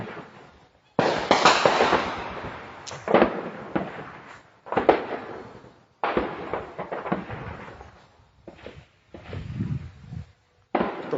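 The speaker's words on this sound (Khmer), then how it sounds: "ផ្ទុះខ្លាំងខ្ញុំផ្ទុះខ្លាំងនេះ" Heavy artillery shelling explosions on the Thai–Cambodian border: loud booming blasts in irregular bursts, each roaring then fading, with short quiet gaps between; heavy and fairly close.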